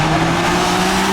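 A BMW M3/M4 with a ZF8 gearbox accelerates hard, its engine roaring loud and close with a steady droning pitch through the shift.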